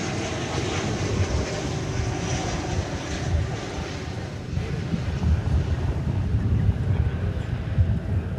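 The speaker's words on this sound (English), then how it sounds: "Alaska Airlines is next in line with a flight from Seattle." Alaska Airlines Boeing 737-900 from Seattle rumbles at Dallas Fort Worth Airport, a moderate, uneven jet roar with gusty wind buffeting the microphone and swelling slightly toward the end.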